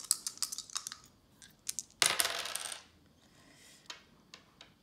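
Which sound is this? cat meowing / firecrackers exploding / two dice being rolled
two dice being rolled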